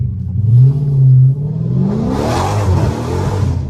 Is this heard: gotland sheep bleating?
no